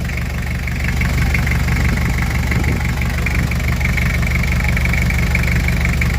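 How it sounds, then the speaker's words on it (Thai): Engine of a Toyota Mighty-X pickup truck idling steadily, a close, continuous low rumble with a faint ticking knock running through it, no talking. "เครื่อง ดี มาก ครับ คัน นี้ เครื่องนิ่ม ๆไม่มี ไอนะน้ำ ไม่ดันครับ"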